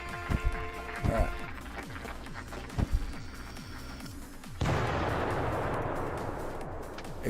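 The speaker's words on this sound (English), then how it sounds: "Explosions." In the video game Town Star, a series of sharp booming explosions strikes in quick bursts, each with a short rumbling tail. A rushing roar follows, and someone talks over it throughout.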